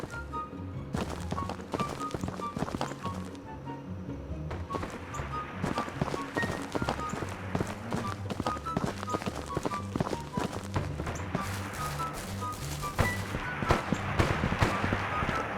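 Running footsteps in the video game ANAREA Battle Royale, a continuous patter of close, rhythmic steps lasting the whole stretch amid a dense background of game sounds.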